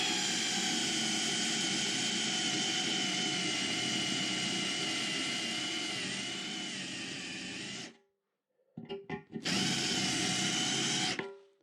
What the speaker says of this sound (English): Right, that's either very hard or that's quite a blunt drill.